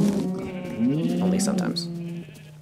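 A sheep bleats in the Minecraft video game, a few wavering cries heard close and clear while someone talks over them.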